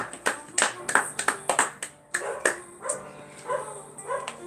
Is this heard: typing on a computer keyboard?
no